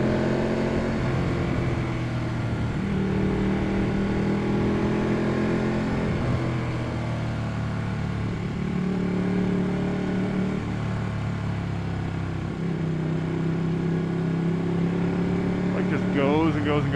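A Ducati 1199 Panigale superbike drones steadily while riding, its engine pitch rising and falling through gear changes under heavy wind noise, loud and close throughout.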